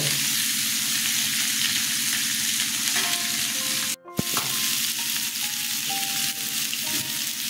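Drumstick vegetable sautés in an oiled pan with a steady, loud sizzle and rhythmic stirring, briefly cut off for a moment before resuming, with faint tonal beeps in the background.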